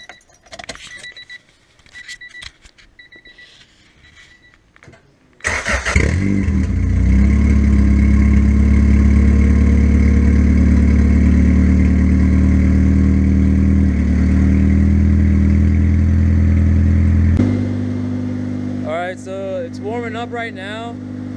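A turbocharged Honda Civic running an open header cranks over after some jangling keys and handling noise, then settles into a loud, steady, rumbling idle that drops in level near the end, with a voice briefly heard.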